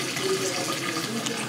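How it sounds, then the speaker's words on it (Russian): Water runs from a hot tap as a household boiler is refilled, a soft steady hiss and gurgle at moderate level, briefly and without talk. "Вот вода побежала из горячего крана."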